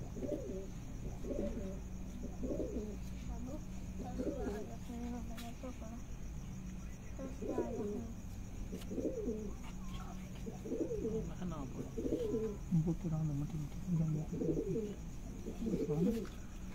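An old pigeon at a breeder's loft gives soft, repeated coos in regular bursts about every second or two, faint and quiet against a low background hum.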